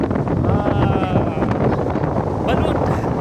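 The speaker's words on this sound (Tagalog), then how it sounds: "Kusog kay hangin" Strong wind gusts across a beach at Liloy, roaring and buffeting close against the microphone in a continuous rush.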